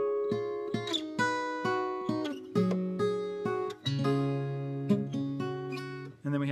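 An acoustic guitar with a capo plays a passage, with quick picked notes, hammer-ons and ringing chord tones moving in a steady, close, clean rhythm.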